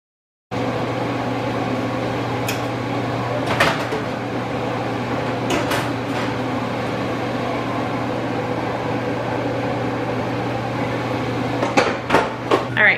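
An oven rack in a home kitchen is shifted down a notch, giving a few sharp, scattered metallic clanks over a steady low appliance hum, with a quick cluster of knocks near the end.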